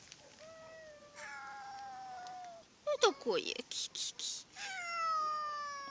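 Two rival cats, one of them fluffy, trade drawn-out meows and a burst of harsh, tangled yowling up close, then resume long wails, while someone speaks briefly.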